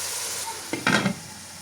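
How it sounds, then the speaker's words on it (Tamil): Chopped onions sauté in a pan for prawn biryani, a steady low sizzle with a brief burst of stirring and scraping near the middle of the short stretch. "இப்போ பார்ப்போம் எந்த அளவுக்கு எங்களோட ஓனியன் வதங்கிக்கண்டு"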